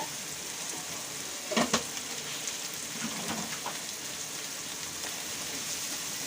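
Masala for chilli idli frying in a pan, a constant dense sizzle like light rain, broken around the middle by a few soft scraping stirs of a spatula.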